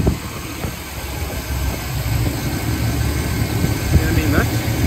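A 2004 Chevrolet Silverado 2500 idles with its hood open, a steady, smooth, close-up engine rumble holding even throughout with a faint high whine above it.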